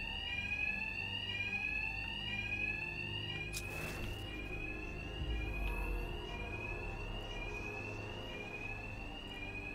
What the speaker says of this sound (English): By the noise of the alarm.